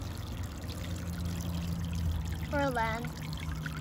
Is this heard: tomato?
no